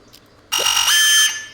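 Smoke detector alarm going off in a bathroom in the video game Unheard: a sudden loud, piercing electronic tone that holds steady for under a second, then fades.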